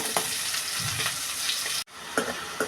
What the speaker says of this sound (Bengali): পেঁয়াজ আর চিংড়ি মাছ ভাজা হয়ে গেছে এখন প্রথমে দিয়ে দিচ্ছি পুয়ের ডাটাগুলো